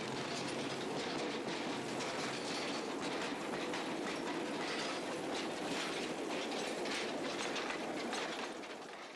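A 2-foot gauge railway train running through a tunnel at a brickworks, a dense continuous rumble with rhythmic clickety-clack of wheels, steady and fairly close, fading slightly at the end with no voices.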